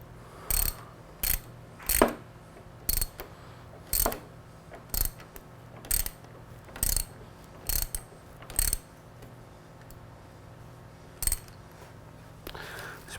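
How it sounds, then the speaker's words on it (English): A ratchet with a 10 mm socket tightens a clutch lever mount on a Yamaha R3, giving about a dozen short, close clicking bursts in an irregular rhythm with brief pauses, and no talk. "It's a 10 millimeter socket, tighten it."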